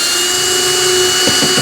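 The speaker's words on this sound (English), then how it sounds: "I got the handy dandy speed wrench from Milwaukee" A Milwaukee speed wrench backs screws out of floorboards with a loud, steady motor whine, then two short pulsing bursts near the end.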